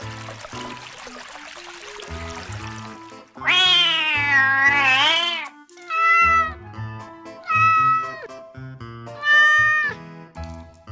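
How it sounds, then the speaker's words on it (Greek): A cat yowls loudly in a string of drawn-out, wavering cries, each lasting a second or two with short gaps between them, heard up close over a low background. "ο γάτος άρχισε να φωνάζει όσο δυνατά μπορούσε"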